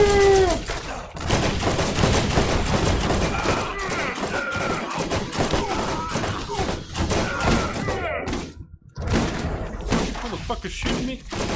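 Gunfire in the video game Borderlands during co-op play, dense rapid bursts of shots and thuds packed close together, loud and nearly continuous with a brief lull, mixed with players talking over it.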